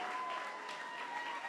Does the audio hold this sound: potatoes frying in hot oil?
no